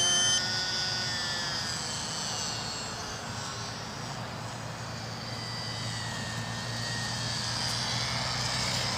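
Electric motor of an SBACH 342 model airplane on its landing approach, a steady, moderately loud whine with a broad airy hiss that eases slightly in the middle before rising again, continuous and alone without voices.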